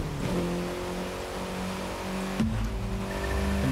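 Engine of a car in a racing video game drones steadily at high revs, with a sharp gear shift and pitch drop midway, followed by renewed acceleration, loud and close with no talking.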